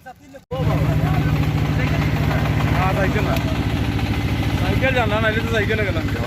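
A boat engine on an open wooden country boat idles with a steady low throb that continues throughout, while voices talk over it, in floodwater in Gowainghat, Bangladesh.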